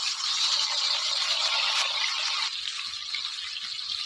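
Fish rubbed with salt and turmeric frying in hot oil in a wok, giving a loud, steady, close sizzle that holds without pause and drops slightly partway through.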